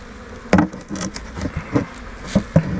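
Bees buzz in and around the entrance of a weak hive that has been moved to a new spot. The low hum is steady, with sharper buzzes as individual bees pass close by.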